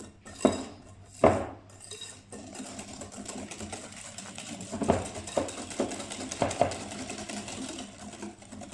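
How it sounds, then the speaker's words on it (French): A whisk beating tiramisu mixture in a bowl gives a steady metallic scraping and rattling, with a few sharper clinks against the bowl rim, close and moderately loud with no talking. "il faut mélanger le tout au fouet"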